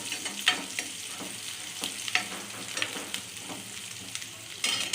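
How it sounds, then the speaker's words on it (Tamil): Mustard seeds spluttering in hot oil while a home lunch is cooked: a close, steady sizzle broken by scattered sharp pops, with a louder burst of crackling near the end and no talk. "சமையல் ஆக்கும் போது இந்த மாதிரி கடுகு எகிரிடும்."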